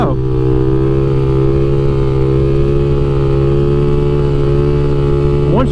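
Loud, steady engine drone from a Kawasaki KLX300SM supermoto held on the throttle through a wheelie, with a rising rev at the start and again at the end.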